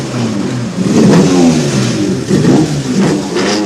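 Leif Asterhag's Toyota rally car on the 1977 Lombard RAC Rally revs hard and pulls away into a night of special stages in North Yorkshire. The engine is loud and close, surging through repeated throttle bursts with no voices.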